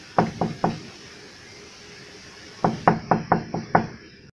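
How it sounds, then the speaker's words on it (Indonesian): Loud knocking on the wooden side door of a house: a quick burst of three knocks, a pause, then six more in a row, close and heavy over a faint background hiss. "aku mendengar pintu samping rumah diketuk dengan keras"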